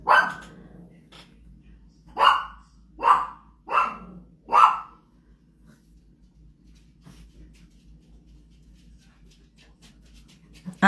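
Dogs bark indoors during a pen-and-ink and watercolor session, one lone bark followed by a quick run of four sharp barks, moderately close, then quiet room noise with faint scratching.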